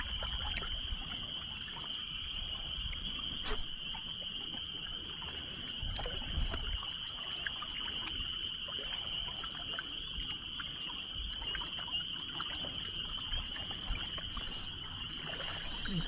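Crickets chirp in a steady, high-pitched drone outdoors by a fishing bank, with faint water sounds and a few scattered clicks underneath.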